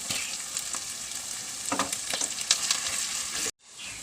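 Tomato sizzling in hot oil with garlic and curry leaves in a pan for a Kerala fish curry, a steady crackling fry with brief stirring scrapes, ending in an abrupt cut to near silence.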